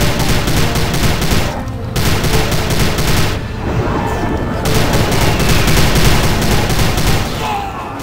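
Sustained bursts of automatic gunfire in the video game Prey, loud and dense, rattling in long volleys broken by a couple of brief pauses before firing resumes.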